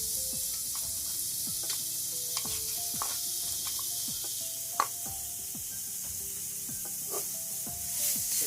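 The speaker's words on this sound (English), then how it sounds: "Now what you want to do is you want to put your garlic and your onions." Garlic and onions fry in olive oil for a vegan Jamaican curry, giving a steady, soft sizzle broken by light clicks and scrapes of stirring, with no talking.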